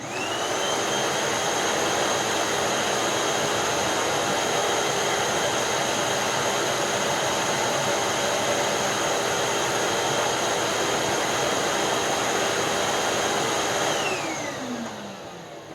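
A Sanitaire EXTEND SC3683D upright vacuum runs with its two premotor filters removed, a loud, steady motor whine with high tonal hum that holds constant before winding down in the last seconds.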